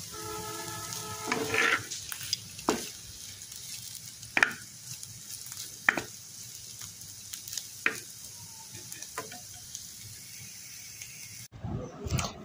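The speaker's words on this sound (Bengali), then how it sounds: "কাঁকরোল ভাজি করলাম এবার কুচি কুচি করে কেটে" Finely chopped spiny gourd frying in a pan: a soft, steady sizzle broken by sharp, well-spaced scrapes and clicks as it is stirred, with no one talking.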